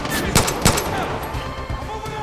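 Machine gun fire crackles in the video game Far Cry 5, sustained bursts and scattered sharper shots blending into a dense, loud barrage.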